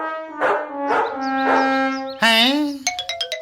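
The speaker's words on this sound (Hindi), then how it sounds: "रास्ते में कुत्ते बहुत हैं।" Cartoon dogs bark in an animated Hindi comic: three evenly spaced, tonal, stylized barks, then a springy boing and a quick run of bright chime-like hits, with no speech.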